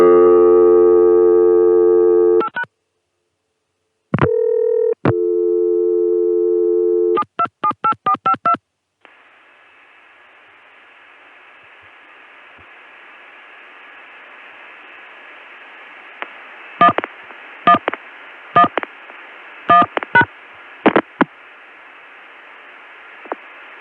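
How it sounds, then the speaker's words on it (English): Touchtone DTMF dialing on a CCSA switched phone line into a Connecticut switch: bursts of clear dual-tone beeps and a steady dial tone, a long hissing line pause, then another rapid run of separate dialed tones, with no voices. "Okay, now for the Connecticut switch, I'll dial 727-8452, and then when I get cut through, I'll dial"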